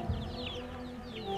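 Chickens in a netted chicken house cluck in short bursts over a steady low background hum, fairly close and moderately loud throughout.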